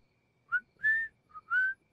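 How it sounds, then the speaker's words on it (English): Whistled tune from a cartoon character, four clear notes in a short rising-and-falling phrase, two brief and two held longer, close and clean against silence. "whistling is an excellent way to play music without using electricity"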